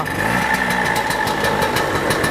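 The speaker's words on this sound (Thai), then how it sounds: "นี่ปล่อยให้เดินเบานะ นี่ไม่ได้จับคันเร่งเลยนะ" An Italian Vespa Sprint scooter in 1964-style trim idles with no throttle applied, its small engine putting out a steady, rapid putter close by, with no talking over it.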